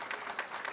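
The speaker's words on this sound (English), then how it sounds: "Let's give these 4 fine individuals a round of applause." Brief burst of audience clapping at a board of education meeting, a dense, even patter of hands heard at moderate distance, short and unbroken.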